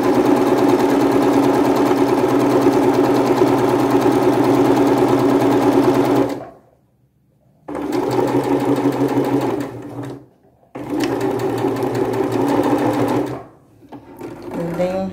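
Sewing machine stitching fabric scraps together, a loud close rapid whirring that runs in three bursts with brief pauses between them, including short reverse stitches.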